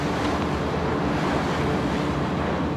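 Rough sea at the Maelström off Norway, a continuous roar of churning waves and surf mixed with heavy wind buffeting the microphone, loud and close, with no voices.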